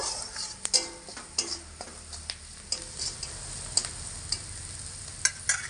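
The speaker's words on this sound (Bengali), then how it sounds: "এবার একটু নাড়াচাড়া করে নেব" Salt and turmeric powder are stirred in a hot pan while cooking yardlong beans. Soft sizzling underlies a series of sharp spatula taps and scrapes against the pan, spaced irregularly, with no talking.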